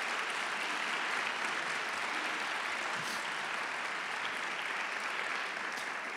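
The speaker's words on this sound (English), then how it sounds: "I'm going to ask you to applaud the role of the arts in the education of human beings." Sustained applause from a university audience fills the space evenly, a dense, continuous wash of clapping at moderate distance with no break.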